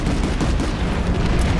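An explosion in the sci-fi shooter Planetside 2, a dense, loud, sustained rumble of blast and gunfire-like noise filling the whole short stretch.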